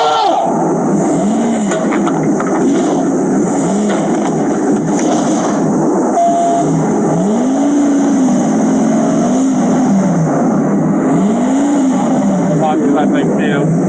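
The engine of a stolen box truck revs hard, rising and falling in repeated surges as it rams police patrol cars, loud and close, with sirens wailing and shouted voices over it.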